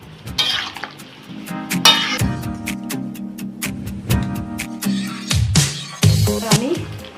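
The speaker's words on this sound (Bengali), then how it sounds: "দিয়ে এবার একটু নেড়ে দেবো" Spoon stirring a spoonful of cumin and sandalwood-style spice paste in a cooking pan for a prawn and pumpkin curry, with repeated sharp metal clinks and scrapes over a soft sizzle, close and fairly loud.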